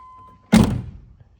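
The door of a 1997 Land Rover Defender 90 NAS with a 4.0L V8 shuts with a single solid, close thunk, preceded by a faint steady beep.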